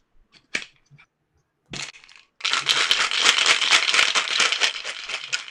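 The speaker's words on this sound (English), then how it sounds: "let me go and just throw it here in the shaker" Ice and liquid rattle hard inside a cocktail shaker being shaken for a drink, a dense, rapid, loud clatter that follows a few sparse knocks and clinks.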